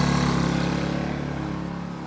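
A Heomaito 1200 watt inverter generator runs at high idle after warming up, its small engine putting out a steady, loud, close drone with an even pulsing hum and no talk over it.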